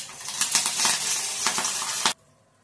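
Mustard seeds, urad dal, chana dal, cumin, dried red chillies and curry leaves crackle and spit loudly in hot oil for a tempering, a dense burst of popping sizzle that cuts off abruptly.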